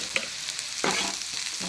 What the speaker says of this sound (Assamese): এইফালে এতিয়া আলু ফ্ৰাই কৰি আছোঁ সৰু সৰু আলু